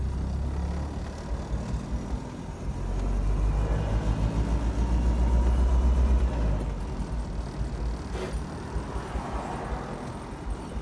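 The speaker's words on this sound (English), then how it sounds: "I think that's first gear. Oh, we're in first gear. Oh my God, we're driving." A Citroen car drives off in first gear, its engine a low, steady rumble that swells partway through and then settles into a rougher drone with faint road noise.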